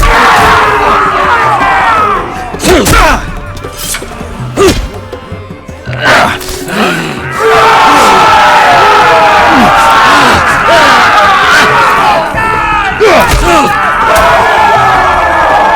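An arena crowd in the Game of Thrones Telltale video game roars and cheers loudly throughout, broken by heavy thuds and shouting voices, with a brief lull in the middle before the roar swells again.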